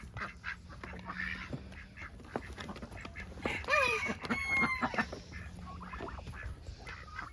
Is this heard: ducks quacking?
yes